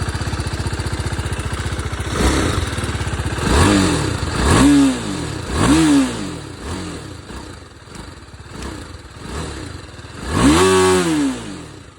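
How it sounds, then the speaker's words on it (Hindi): A 2023 BMW G310RR motorcycle idles close by with a throaty exhaust burble, then is blipped through several sharp revs, each rising and falling quickly, with one longer, louder rev near the end. "अभी आप लोग को एग्जॉस्ट की साउंड सुनाते हैं"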